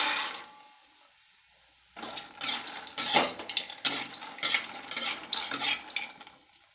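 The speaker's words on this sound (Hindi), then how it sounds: "अब हम मखाना भून लेते हैं।" Fox nuts (makhana) being dry-roasted and stirred in a pan: after a quiet start, a series of loud, close scraping and rattling sweeps as the puffed seeds are pushed around the pan.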